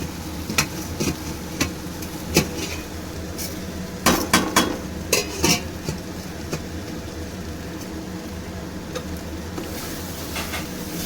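Washed, drained Gobindobhog rice tipped into a khichuri pot with dal and stirred, a steady sizzle under repeated sharp metal spoon scrapes and clatters, clustered in a busy burst midway, no voices.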